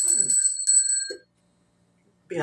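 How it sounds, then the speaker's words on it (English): A Tibetan Phoenix bell rung a couple of times, each strike giving a bright, sustained metallic ring that decays within about a second, followed by silence and then speech starting. "I'm going to ring my Tibetan Phoenix bell because we are rising like phoenixes."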